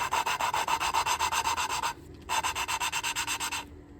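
Engine valve lapped against its seat by hand, a gritty rhythmic grinding repeated in quick back-and-forth strokes, then a brief pause and another run of strokes, close and fairly quiet with no talking.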